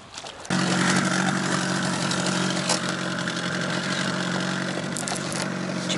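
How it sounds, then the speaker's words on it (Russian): After a brief quieter moment, the outboard motor of a Polar Bird 450E boat on a river in Yakutia starts droning loudly and steadily, a continuous buzzing hum that holds at close range with no talking. "Сейчас еще на моторе попрем."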